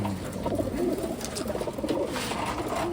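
A hen pigeon of Taiwan stock coos close by, a run of soft, low, rolling coos repeating throughout with no voices.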